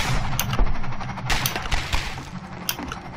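Rapid gunfire bursts in the video game Half-Life 2, with sharp repeated shots and an impact clatter under a dense wash of game noise for about three seconds.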